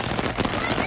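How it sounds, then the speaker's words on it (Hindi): Steady rain patters densely on a surface in a bird park, close and continuous, with a noisy hiss throughout. "ये देखिए बारिश हो रही है"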